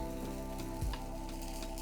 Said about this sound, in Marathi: छोट्या छोट्या तव्यावर ना फटाफट फटाफट भाजले जातात बघा